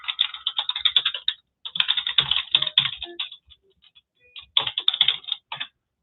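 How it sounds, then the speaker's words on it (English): Quick clicking keystrokes on a computer keyboard in a few fast bursts separated by short pauses, close and crisp with no voices. "I'll just type something here now so you can see what I'm talking about."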